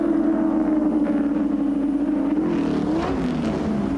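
Holden Commodore race cars accelerating up Mountain Straight at Bathurst, a loud, close engine note holding a strong tone before sweeping and shifting pitch as the cars power up the hill.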